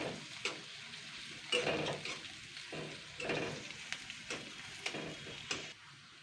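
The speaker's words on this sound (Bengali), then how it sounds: "পেঁয়াজ আর রসুনটা ভালো করে ভেজে নিয়েছি" Crushed onion and garlic fry in a pan for a prawn and chana dal dish, giving a steady soft sizzle broken by several scraping strokes of a spatula, heard close and without talk.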